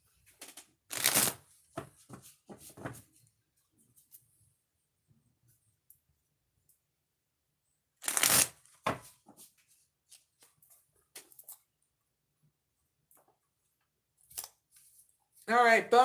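Tarot cards are shuffled in two separate short bursts of riffling, each followed by a few soft taps, with quiet pauses between and a voice speaking near the end.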